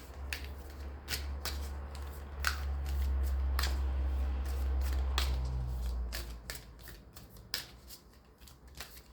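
Tarot cards are shuffled and handled close by, with sharp papery snaps and riffles scattered irregularly over a low steady hum.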